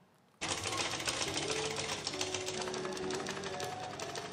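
A sewing machine starts abruptly and runs continuously, a rapid mechanical rattling clatter close by and steady throughout, with no voices.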